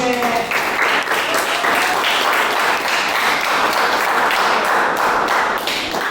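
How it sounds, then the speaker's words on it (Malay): A class of students applauds in a classroom, a loud, continuous burst of clapping with some thumping taps, lasting several seconds with faint voices mixed in. "Ada tepuk tangan sikit."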